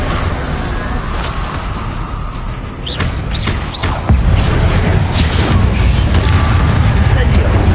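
Fiery spell blasts of Incendio and Confringo ring out in a Harry Potter video game, a string of booming bursts and crackles that grow louder midway, with a voice calling out spell names over them.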